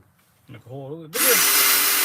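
A brief voice, then a power drill starts up loudly and whirs steadily, drilling a hole in wood, close by.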